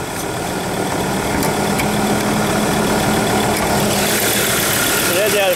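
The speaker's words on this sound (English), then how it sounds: "So there's our 5-cylinder diesel engine." A 5-cylinder diesel car engine idles steadily with a low, even rumble and slight knocking texture, close and continuous for the whole span.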